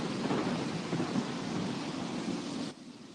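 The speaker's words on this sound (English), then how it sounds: "Oh, man, storm's coming." Thunder from an approaching storm rumbles steadily along with rain and wind, a broad, continuous roar that cuts off abruptly near the end and leaves only a faint hiss.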